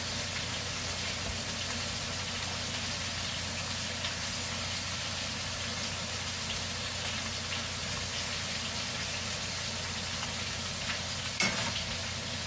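Sausage, meatballs and minced garlic sizzle steadily in a skillet. The frying hiss is faint, continuous and even throughout, with a brief clink near the end.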